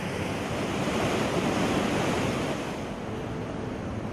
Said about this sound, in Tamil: இதனால் ஆற்றின் இரு கரைகளையும் தொட்டு தண்ணீர் பிரவாகமாக பொங்கி பாய்கிறது.